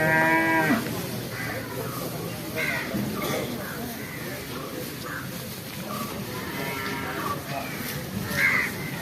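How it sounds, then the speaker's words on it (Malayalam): A water buffalo moos a few times at a busy cattle market, distant and moderately loud, over a steady crowd murmur with occasional crow caws. "ഇത് എരുമ"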